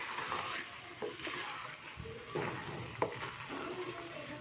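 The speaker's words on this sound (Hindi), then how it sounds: "उन अंडों को ना हल्के हाथ से हम इसमें मिक्स कर देंगे" Eggs are gently stirred into carrot halwa in a pan with ghee over low heat, giving a soft continuous sizzle with occasional spoon scrapes and light knocks, close and fairly quiet; nobody speaks.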